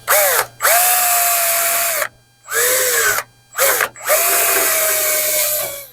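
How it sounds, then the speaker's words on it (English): A power drill whines loudly through an aluminum cap strip on a Piper Super Cub wing spar in several bursts, pitch dropping as it bites, with brief silent pauses between each run. "I'm gonna drill a hole right through here, through that cap strip"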